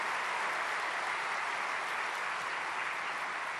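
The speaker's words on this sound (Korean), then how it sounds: "박수로 환영하시겠습니다." Church prayer meeting audience applauds steadily in welcome of a professor taking the stage, a dense continuous wash of clapping at even loudness throughout, with no talking over it.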